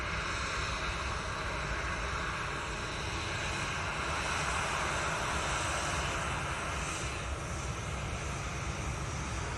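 A Ryanair airliner passes at Manchester Airport, a steady, broad engine roar holding for several seconds with no one talking.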